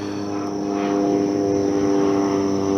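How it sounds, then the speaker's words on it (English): A propeller airplane passes overhead above a home garden in June, a steady droning hum that swells slightly louder toward the end, with no voices. "Airplanes."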